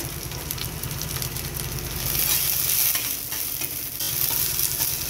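Chopped onion and capsicum fry over a cumin tempering, giving a loud, even sizzle that swells as the pan is stirred.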